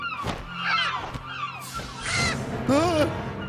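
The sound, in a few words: large seagulls calling, from a dubbed animated film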